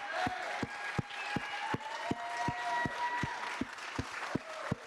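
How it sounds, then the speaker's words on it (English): A live audience at a final applauds the two finalists with moderate clapping, while a regular sharp thump sounds about twice per second beneath it and faint tonal sounds run through the background. "Can we have a round of applause for both Owen and Leonard Gates?"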